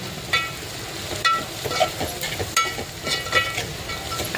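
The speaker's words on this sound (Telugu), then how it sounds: "పసుపు కారం ఒక రెండు నిమిషాలు అటు ఇటు తిప్పి" A spoon stirs and scrapes turmeric, chili powder and salt in a hot cooking pan for a dried fish curry, with repeated scraping strokes over a low sizzle.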